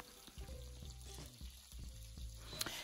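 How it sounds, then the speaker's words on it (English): Chopped onion dropped into hot turkey burger grease in a pan, a quiet, steady sizzle with faint clinks and stirring. "you want to immediately add your chopped onion to the grease"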